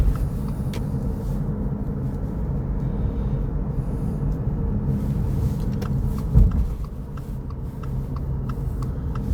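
A car drives along the Conestoga Parkway, a busy multi-lane highway, with a continuous loud low road rumble and tire noise heard from inside the cabin and one brief thump partway through.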